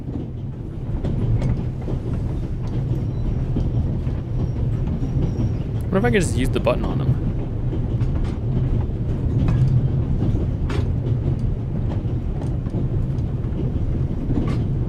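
A train rolls along rails in a video game, a steady low rumble with rhythmic clacking, while a voice speaks over it and a brief high squeal cuts through midway.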